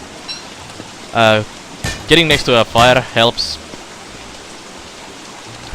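Rain falls steadily in the video game Don't Starve, a soft, even hiss running under a man's brief speech.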